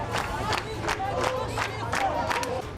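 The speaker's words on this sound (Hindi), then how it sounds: "इसके बाद सैकड़ों की तादाद में सड़क पर उतरे लोग ताली बजाते हुए नारेबाजी करते नजर आए।" Crowd of hundreds out on a city street protesting a pregnant woman's death, rhythmic clapping in steady bursts under loud chanted slogans, a dense roar of many voices.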